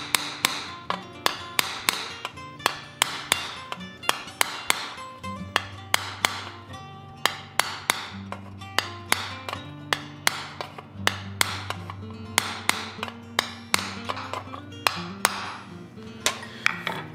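A small hammer steadily taps a sharp curb chisel into metal for repoussé, producing evenly spaced, crisp, ringing metallic strikes at close range that continue throughout with no talk.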